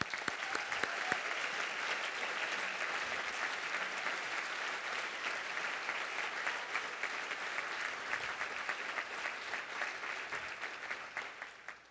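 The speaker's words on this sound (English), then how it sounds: "give another round of applause to the class of 2015" A large audience at a 2015 school commencement claps loudly and steadily for the graduating class, a dense, sustained wash of applause that fades slightly toward the end.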